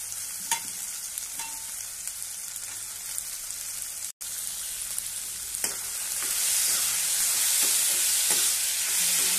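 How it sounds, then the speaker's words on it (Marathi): Green peas sauté in hot oil for a Marathi vatana batata rassa, with a steady close sizzle and occasional stirring clicks. The frying grows louder and brighter in the second half, and a brief dropout falls near the middle. "तेलामध्ये छान असे परतून घ्यायचे आपल्याला हे वाटाणे।"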